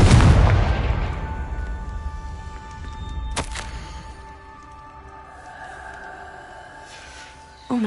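A Confringo fire spell in Hogwarts Legacy bursts with a loud close boom that fades into a rumbling tail, followed by a sharp second crack and quieter lingering game ambience.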